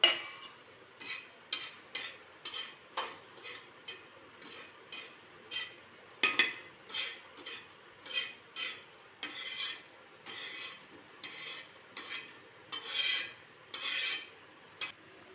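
Coriander and poppy seeds dry-roasted and stirred in a pan, a steady series of short rasping strokes with a faint crackle underneath, close and moderately quiet.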